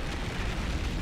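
A loud, dense blast from an eruption in StarCraft II, a sustained rumbling explosion with booming low end lasting about a second, with no voices over it.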